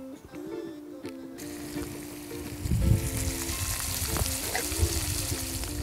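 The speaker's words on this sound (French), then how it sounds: "je vais pouvoir venir faire sauter mes tagliatelles de légumes dans une poêle avec un beurre bien chaud" Vegetable tagliatelle sautéing in a pan of very hot butter, a steady close sizzle and frying hiss that swells after the first second and holds under faint kitchen clatter.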